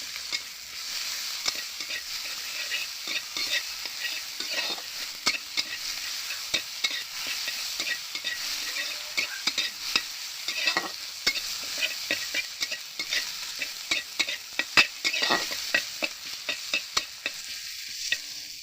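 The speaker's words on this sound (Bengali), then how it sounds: "আদাগুলো এবারে ভালো করে ভেজে নিই" Ginger frying in oil with turmeric in a pan for a vegetarian papad kofta dish, a steady sizzle under frequent scraping and tapping of a spatula, close and unbroken, with no talking.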